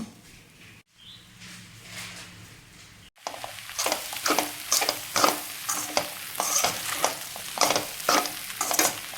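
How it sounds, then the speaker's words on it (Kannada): Puffed rice is stirred with fried peanuts in a pan for a Kannada-style breakfast, mandakki oggarane. A quiet stretch is followed by loud, steady, rhythmic scraping and rustling strokes with a light sizzle underneath, and no one talks. "ಫ್ರೈ ಮಾಡಿಟ್ಟಿರುವ ಶೇಂಗಾನು ಹಾಕ್ಕೊಳ್ತಾ ಇದ್ದೀನಿ ಮಿಕ್ಸ್ ಆಗಿದೆ ಶೇಂಗಾ ಹಾಕೋಣ"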